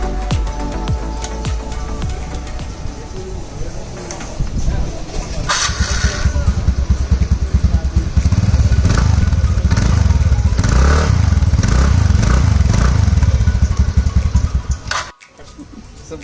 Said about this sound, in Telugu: ఇప్పుడు బండి ఇంజన్ సౌండ్ వినిపిస్తా